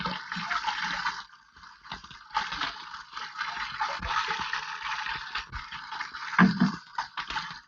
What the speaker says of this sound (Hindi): हाथ धोने दो।